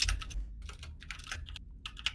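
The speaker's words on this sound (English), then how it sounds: "Mechanical keyboard. You can hear it a mile away." Someone types on a mechanical keyboard in quick, irregular bursts of crisp, clacky keystrokes with short pauses in between, close and fairly loud, with no speech.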